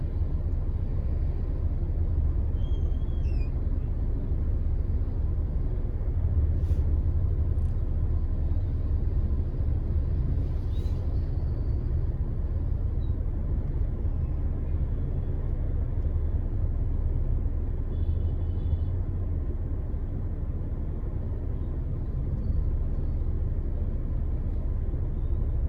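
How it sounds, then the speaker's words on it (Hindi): Bangalore traffic jam on the Outer Ring Road, a dense continuous low rumble of idling and creeping vehicles with engine drone throughout, no distinct horns standing out. "बैंगलोर का ट्रैफिक जाम"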